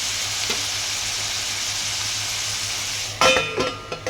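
Ivy gourd and tomato curry cooks in a pan with a steady, soft sizzle, then a sudden burst of metallic clinks and clatter from a lid or utensil near the end.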